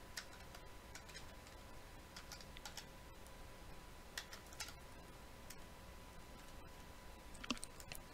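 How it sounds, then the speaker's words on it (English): Faint, close keystrokes tap out a console command on a computer keyboard for Fallout 4, as a quiet run of irregular clicks over low background hum. "So what you want to do is player dot place at me and then type the code in."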